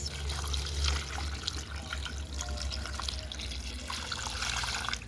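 Water trickles and splashes steadily as it is poured into homemade butter being kneaded and washed, a continuous running pour with a low hum beneath it.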